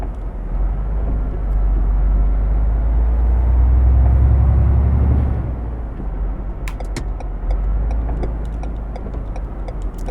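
Deep diesel rumble of a Ford F-Max truck engine in Euro Truck Simulator 2, swelling louder mid-clip then easing, with light ticking clicks over a steady low drone.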